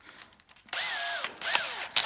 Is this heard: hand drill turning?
yes